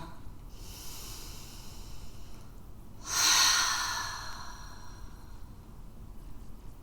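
A single deep breath during a prenatal and postnatal yoga flow, rising and then easing off as a soft, airy exhale that stands alone against quiet room tone for a few seconds.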